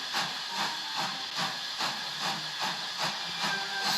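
A cartoon steam engine, Thomas the Tank Engine, chuffs softly in a steady rhythm of hissing puffs, roughly two per second, with a continuous background hiss and no voices.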